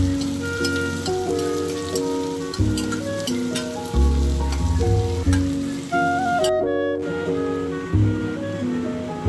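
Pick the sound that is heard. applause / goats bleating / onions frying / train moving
onions frying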